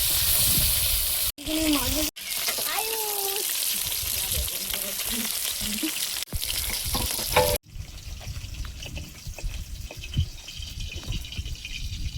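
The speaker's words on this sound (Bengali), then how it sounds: "মাছগুলো লবণ হলুদ মাখিয়ে ভেজে নেব।" Fish coated in salt and turmeric sizzles loudly in a pan, a steady hiss with faint voices in the background, then the sizzle drops to a quieter, crackling fry for the final few seconds.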